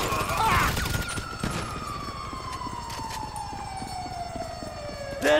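An ambulance siren in the GTA V video game sweeps past as one steady tone that falls in pitch, like a Doppler drive-by, loud and up close over a low rumble of game noise.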